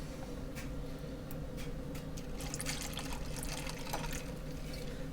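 Tequila and peach schnapps are poured for a peach margarita cocktail, a quiet, close trickle of liquid with light splashes and clinks over a low steady hum.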